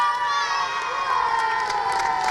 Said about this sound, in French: On va l'applaudir, on va l'accueillir, faites du bruit pour Aming Sassoir.